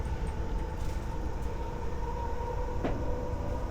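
JR East Keihin-Tohoku E233-1000 commuter train accelerating toward Omiya, a steady rumble with a rising electric motor whine tone and a brief clank partway through, heard from inside the car.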